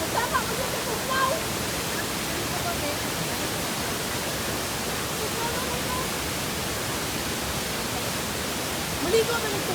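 A waterfall at a hidden rock formation gives a steady, close, loud rushing roar that stays constant throughout, with faint voices barely audible beneath it.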